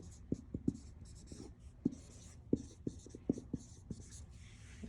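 A pen scratches out notes on paper in short, quick strokes with small pauses between them, close and quiet.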